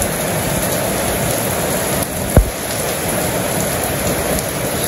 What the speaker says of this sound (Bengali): সেই রকম বৃষ্টি।